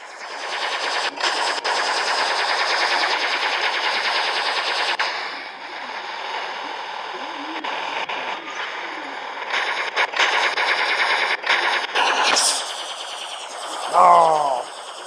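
Machine gun fire in a video game, long loud continuous bursts of rapid shots with brief pauses, close and dense, with a whistling sweep near the end.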